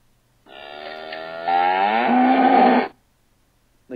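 A cow gives one long, loud, close moo that rises partway through and then stops abruptly; another moo starts just as the sound ends, and otherwise it is quiet.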